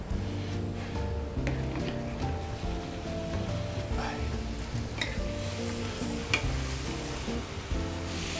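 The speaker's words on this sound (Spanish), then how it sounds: "Dejamos que el tomate se sofría." Tomato frying with onion in a pan for a Gandia-style seafood fideuà, a steady, dense sizzle that runs throughout with occasional stirring scrapes and faint background music.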